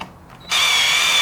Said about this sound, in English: We're going to use a 10mm ratchet to take this bolt off.